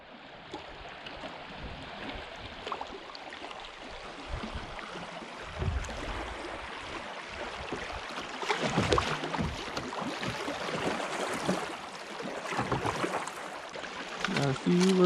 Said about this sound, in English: Got a few little rapids, guys.